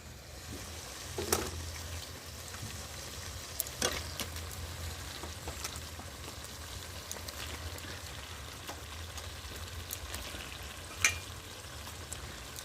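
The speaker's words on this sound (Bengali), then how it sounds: "এই দেখো এবার আমি চিকেনগুলো দেবো।" Chicken pieces fry in a spice masala, giving a steady close sizzle with scraping stirs and a few sharp clicks of the utensil against the pan.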